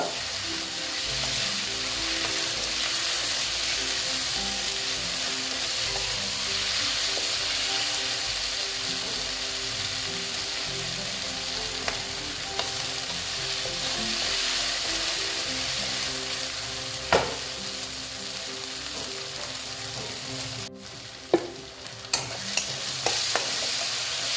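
Onions fry in oil with a little salt, giving a continuous close sizzle in the pan, with occasional scrapes and taps from stirring toward the end.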